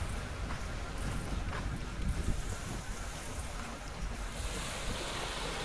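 Sea waves wash steadily beside a boat repair yard on a Maldives shore, a continuous broad surf roar mixed with wind buffeting the microphone, fairly loud and without speech.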